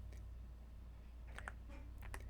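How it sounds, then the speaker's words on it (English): Keys tapped on a computer keyboard with a final press of Enter, a few faint, sparse clicks in a quiet room. "all you have to do is type and hit enter"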